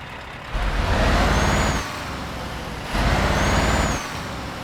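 A Scania 730S truck in Euro Truck Simulator 2 roars up twice in two swelling surges over a steady engine drone, heard alone without talk.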